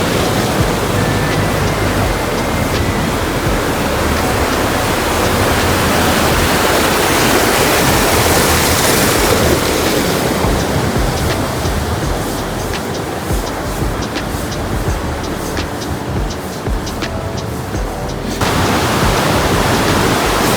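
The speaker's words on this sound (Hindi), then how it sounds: "यहाँ पे ये टरबाइन चल रही है और ये पानी बह रहा है।" Loud, steady roar of river water rushing past a running hydroelectric turbine, a dense continuous wash of broadband noise with no pauses and no voices.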